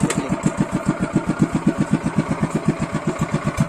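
Loncin 7HP small engine idling after repair, a close, steady rapid putter of evenly spaced firing pulses with a low mechanical rumble, no voices.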